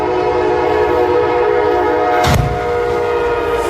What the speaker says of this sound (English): double-decker commuter train